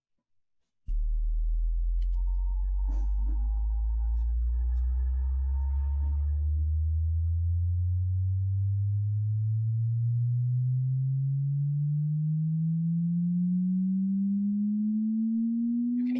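A pure sine tone starts abruptly low and sweeps steadily upward in frequency for about fifteen seconds, loud and continuous, with faint background sounds early on.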